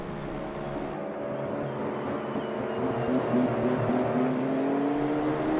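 GT3 race car engines from a Hololive GT3 sim race at Sepang, heard as a continuous layered engine whine with a slowly rising pitch, steady and fairly loud, with no talk over it.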